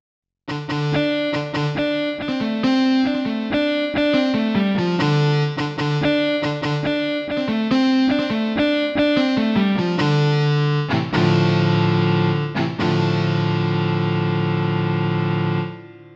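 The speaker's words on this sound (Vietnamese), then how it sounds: "Sau đây là tiếng guitar overdrive, tiếng guitar điện nha các bạn." An overdrive electric guitar tone on a Kurtzman K350 keyboard plays a chugging riff of rapid notes, then holds sustained distorted chords ringing out loudly.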